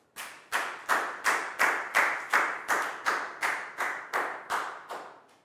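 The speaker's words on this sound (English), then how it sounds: "High five and a big round of applause for Pat" A small classroom group claps in a steady, even rhythm of about twelve firm claps, close and alone with no talking over it.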